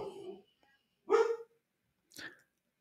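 A pet dog barks indoors in three separate bursts, the middle one loudest, with short silent gaps between them and no talking.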